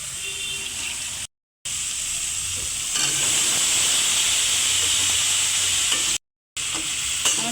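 Prawns drop into hot oil in a pan and set off a loud, steady sizzle that keeps hissing for several seconds, broken by two brief silent gaps.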